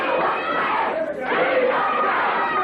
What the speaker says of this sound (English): And you can hear the crowd picking it up.